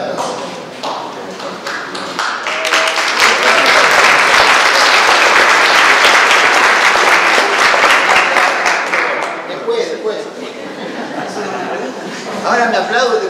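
An audience applauds at a talk on psychotherapeutic strategies in Río de la Plata social psychology, a dense sustained burst of clapping that swells in the middle and tapers off, with a voice briefly audible near the end.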